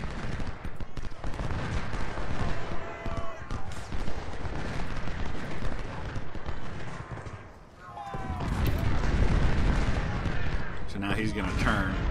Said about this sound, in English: see if we can get a couple shots into Nagel's flank